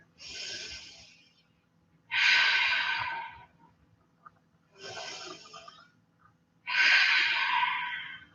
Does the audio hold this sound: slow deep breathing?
yes